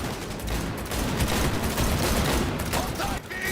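Dense, continuous gunfire in Cyberpunk 2077 during a car chase, a loud rattling fusillade with a rumbling vehicle bed and voices shouting beneath.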